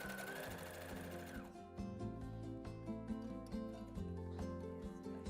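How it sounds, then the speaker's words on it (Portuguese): A new sewing machine stitching rapidly, a fast whirring mechanical buzz with a high whine at the start, then steady rhythmic stitching, quiet and alone. "você usando aí essa máquina de costura nova, que é rapidinho"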